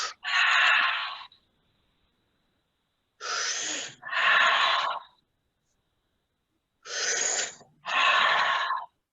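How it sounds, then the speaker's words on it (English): Exaggerated martial arts breathing during a hanbo class, heard as three sets of forceful breaths: one long rushing exhale, then two pairs of sharp, hissing breaths, each close and loud, separated by silence. "So I'll exaggerate the breath."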